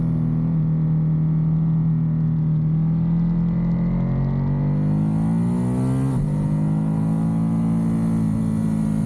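A Ducati Monster 937 motorcycle engine drones steadily, then its pitch climbs sharply as the bike accelerates in first gear. There is a brief shift break before the loud, close, continuous revving rises again.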